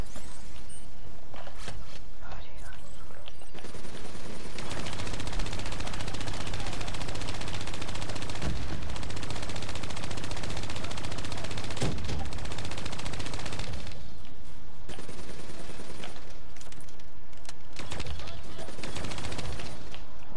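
Rapid automatic gunfire from a gun turret in Call of Duty, dense sustained bursts filling most of the stretch with a few brief lulls, loud and close, mixed with other battle noise.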